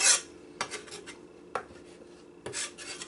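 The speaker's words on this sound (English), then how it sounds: "we'll scrape them up and put them in a bowl" A knife scraping chopped chives across a cutting board toward a bowl, three rasping strokes separated by short pauses, close and clear with no talk.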